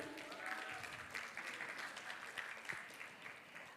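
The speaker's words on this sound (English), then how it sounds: "please give a round of applause, everybody" Applause from an audience at an academic visit event at a university in North Sumatra, a steady wash of many hands clapping at moderate distance, faint in level and continuing evenly throughout.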